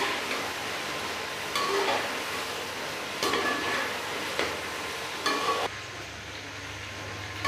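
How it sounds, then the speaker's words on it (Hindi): Chicken frying in a pan for a homemade chicken karahi, a continuous close sizzle broken by several bursts of stirring and scraping, with a brief clink of metal on the pan. "फिर ये देखें चिकन फ्राई हो रहा है"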